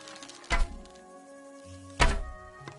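Two sharp arrow impacts on an archery target in Kingdom Come: Deliverance 2, about a second and a half apart, each a solid thunk over a quiet background of game ambience.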